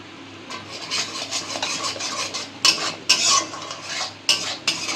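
Coriander powder, red chilli powder and turmeric are stirred and sautéed in oil, a spoon scraping the pan in repeated rasping strokes with sharper clinks over a low sizzle.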